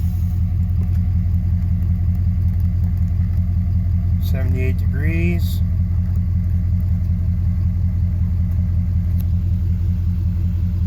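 A 2019 diesel truck engine idles steadily at close range after start-up, a constant low rumble with regular firing pulses, while someone speaks briefly over it midway.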